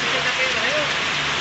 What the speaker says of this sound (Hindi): इतनी तेज बारिश पड़ रही है कि ग्राहक भी नहीं आ रहा है दुकान पर।